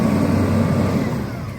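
Garbage truck engine running steadily at close range while its lift mechanism hoists and empties a residential trash bin, a continuous low mechanical drone with no voices.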